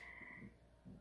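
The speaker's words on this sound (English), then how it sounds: "The frogs acting up. You know we got a pond outside too" Frogs in a pond outside give a few low, faint croaks, heard from a distance under a steady background hum.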